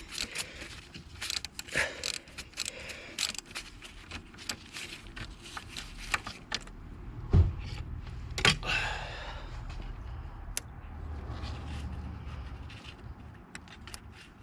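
Mechanical clicks, scrapes and metallic rattles from a bolt being worked loose on the engine of a 2009 Mercedes-Benz W204 C200, fairly faint and close, with hoses and a wiring loom in the way.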